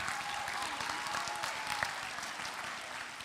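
An audience at a talk gives a round of applause, steady dense clapping from many hands filling the room, fairly close and even, with no speech over it.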